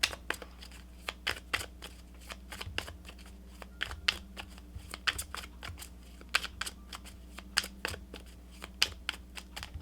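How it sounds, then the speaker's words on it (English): Tarot cards are shuffled close by: dense, irregular papery flicks and riffling taps run continuously at low volume with no voice. "if you are not a fan of shuffling, I definitely suggest that you fast forward through this."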